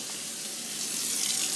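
Tap water runs steadily from a sink faucet into a bowl, a close, continuous splashing hiss with no talk.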